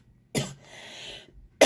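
A person coughs loudly and close by: one harsh burst, a short wheezy breath, then another abrupt cough at the end.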